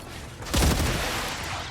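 A fast, dense burst of enemy gunfire rattles through a video game firefight. It is loud and sustained, with overlapping shots and no talking.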